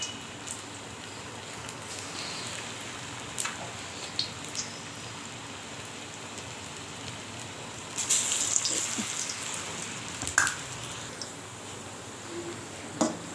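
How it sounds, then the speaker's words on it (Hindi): Homemade potato chips mixed with spinach and coriander sizzle steadily in hot oil, a continuous close crackling hiss with a few louder pops and spatters, no talk over it. "जब हमारा गर्म हो जाएगा तो फिर मैं ना इसमें डाल दी जाऊँगी अपने आलू के चिप्स"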